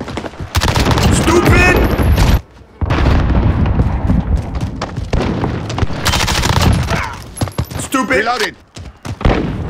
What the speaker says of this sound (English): Check out this gun, man. The new MP5.